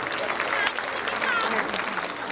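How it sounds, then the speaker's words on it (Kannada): An audience at a school event applauds for a Kannada-medium convent school, a continuous patter of many hands clapping at moderate loudness, steady for a couple of seconds. "ಚಪ್ಪಾಳೆ ಬರಲಿ."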